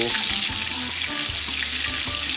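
Flank steak sizzles and fries in butter in a hot pan, a steady, loud crackling hiss with small pops and bubbling throughout, heard close up with no talking.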